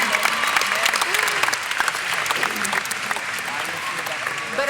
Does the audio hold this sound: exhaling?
no